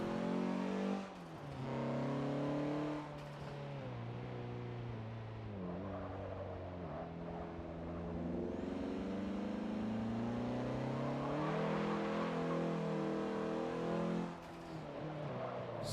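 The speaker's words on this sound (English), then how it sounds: "Spinning the front wheel drive, it sounds hilarious." Dodge Omni in Forza Motorsport 7 spinning its front wheels, engine droning and revving up and down steadily with tire squeal, fairly faint and alone.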